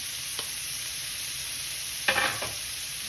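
Blackened salmon fries in a pan with a loud, steady hiss, broken by a couple of brief scrapes or pops, one early and a cluster near the end, with no voices.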